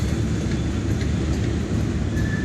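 A train crosses a trestle bridge with a steady, unbroken rumble throughout, loud and fairly close, without clear breaks or individual clacks.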